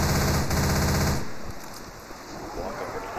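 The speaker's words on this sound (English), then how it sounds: "I'm gonna keep my machine gun" A machine gun fires a rapid burst in the zombie shooter Left 4 Dead 2, loud and close for about a second, then cuts off into quieter background noise.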